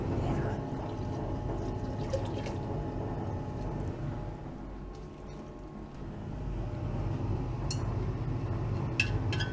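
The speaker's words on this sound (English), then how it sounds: "Adding some more water." Water poured into a gold refining solution holding about five troy ounces of gold gives a steady splashing, trickling wash with faint clinks and mechanical noise, moderately quiet and continuous.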